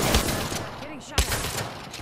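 Gunfire in Apex Legends: a dense burst of shots crackles on and off, with a sharp, louder crack near the middle, while voices can be heard under the shooting.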